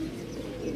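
A pigeon coos softly close by, a short low murmuring call with a faint chirp over a steady background.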